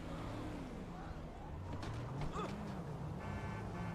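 A small car driving in a video game, its engine a continuous low hum with shifting revs, mixed with other game sounds and a brief higher sweep midway.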